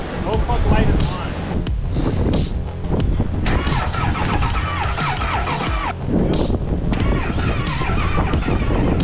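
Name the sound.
wind blowing on the microphone outdoors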